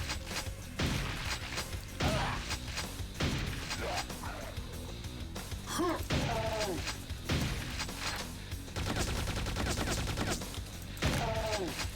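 Gunfire in the video game Quake 2 (Call of the Machine): loud, repeated bursts of shots with short pauses between volleys, mixed with other game effects and occasional whooshing, pitched tones.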